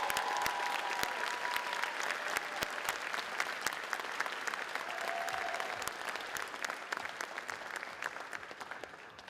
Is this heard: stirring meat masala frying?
no